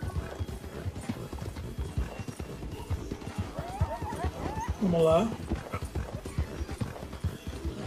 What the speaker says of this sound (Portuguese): Esse cavalo aqui é um dos mais rápidos que tem no jogo, hein?